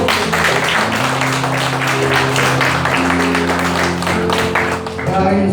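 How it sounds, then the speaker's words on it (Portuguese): A church congregation claps along while sustained tones of music or singing hold underneath, a loud, busy patter of hands running the whole time with faint talk mixed in. "Aplauda o Senhor."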